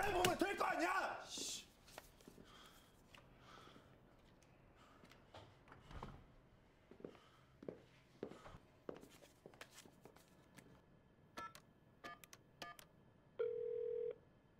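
A telephone is dialed in a drama scene: faint clicks and handling noises build to a short, clear dial tone near the end, with quiet speech and movement around it.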